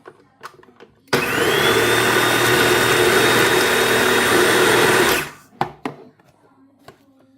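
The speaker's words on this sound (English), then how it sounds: "this is the shredding of the onions" A Kenwood MultiPro Go FDP22 food processor shreds onions with a loud, steady motor whir lasting about four seconds, framed by quiet handling clatter before and after.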